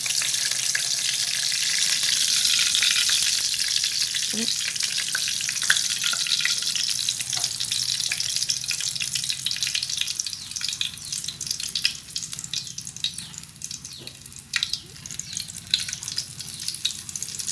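Steady crackling sizzle of tofu frying in hot oil, with occasional sharper pops and faint scraping, continuous throughout and no talking.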